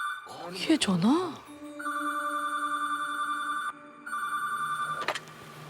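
Electronic telephone bell rings steadily in a dusty, abandoned motel, a repeated bright warbling ring that pauses briefly and resumes, following a startled voice and ending with another short vocal sound.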